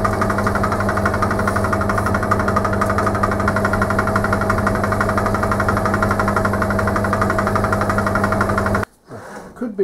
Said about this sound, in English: I'm going to drill a part of this